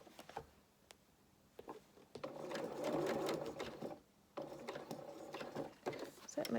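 A sewing machine stitches a 1 cm seam allowance into a corner while sewing dungarees, running in loud bursts of rapid mechanical clatter with brief pauses between, and faint talk at times.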